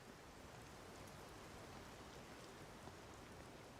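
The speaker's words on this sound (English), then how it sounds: "It's raining now in game." Steady rain in the video game Everybody's Gone to the Rapture, hissing softly and continuously, an even wash of drops with no voices or other sounds.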